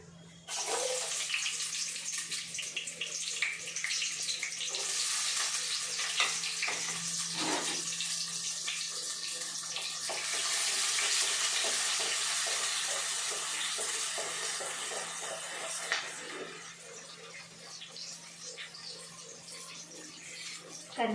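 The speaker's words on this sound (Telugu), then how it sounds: "నూనె కొంచెం వేడైన తర్వాత ఉల్లిపాయ అయితే వేసేసుకుంటున్నానండి" Onions sizzling in about three tablespoons of hot oil for a seema chintakaya (Manila tamarind) curry, a steady broadband hiss and crackle that keeps up throughout with a few brief clinks, no talk.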